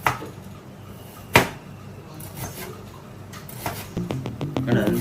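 Vegetables are chopped with a kitchen knife amid clinking dishes and utensils, with one sharp knock and then a quick run of close, rhythmic cutting taps near the end.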